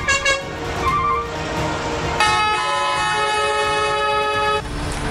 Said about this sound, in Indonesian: para sopir truk yang kesal juga serentak membunyikan klakson di depan kantor Wali